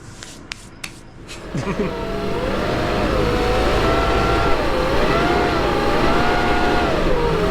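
A Humvee's cooling fan whirs loudly and steadily under a continuous engine roar on a sand hill climb, building after a few clicks and thumps at the start.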